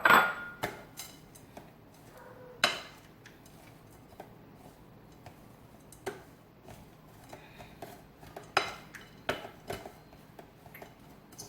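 Quinoa salad with sliced almonds is tossed with a utensil in a bowl, producing irregular light clinks and scrapes spread over several seconds, fairly quiet and close, with no talking.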